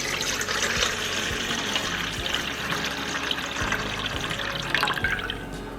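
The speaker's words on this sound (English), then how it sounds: "So we're going in with 725 grams of a warm water, nothing hot." Warm water poured into a bowl for sourdough bread dough, a continuous splashing, trickling stream with a few soft knocks, close and steady for several seconds, no talking.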